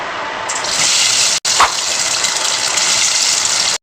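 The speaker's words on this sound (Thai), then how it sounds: "เดี๋ยวเราใส่น้ำมันลงไปเลยค่ะ" Cooking oil pours into a pan for frying tofu as a steady, close gushing stream for about three seconds, briefly interrupted once, with no talking.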